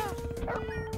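A cartoon cat in Crashy Cats gives a short, tonal, plaintive meow over busy game music.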